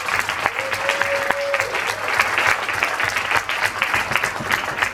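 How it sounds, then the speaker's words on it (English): An audience applauds at an MLK Day youth speak-out event, steady dense clapping filling the room for several seconds, with a brief whistle-like tone early on and no speech over it. "Let's give them both a round of applause."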